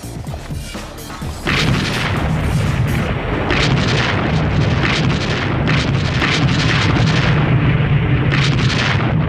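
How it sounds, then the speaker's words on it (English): A heavy, extended artillery barrage pounds a German-defended hill in France, a continuous roar of dense overlapping blasts and booms that swells loudly after a quieter opening and rumbles on without pause. "It always began with an extended artillery barrage"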